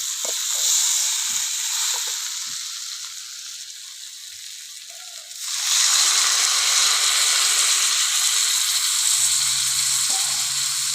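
A pan of sautéed green jackfruit masala sizzles softly. Then water poured in midway sets off a loud, sustained hiss that carries on to the end.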